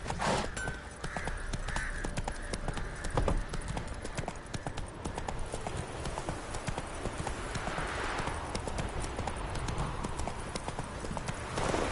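In The Witcher 3 video game, a horse's hooves clip-clop steadily at a walking pace, close and continuous over a dense game soundscape.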